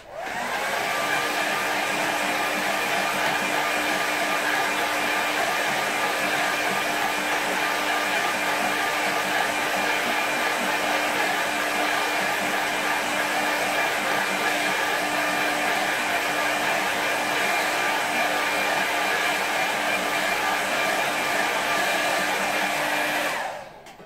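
A hair dryer blows at a constant, loud, steady whine for over twenty seconds to dry wet watercolour paint on a flat board, then cuts off at the end.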